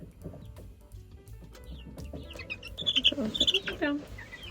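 A Barred Rock hen in a backyard coop gives a few soft, close clucks, then a quick burst of higher chirpy calls, with faint speech underneath.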